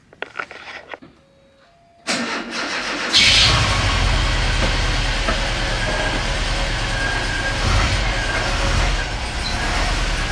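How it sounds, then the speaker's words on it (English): A diesel heater running inside a VW Vanagon, starting with clicks and a whir before a loud, steady blowing roar comes in and holds to the end. "I would say the diesel heater is working as intended."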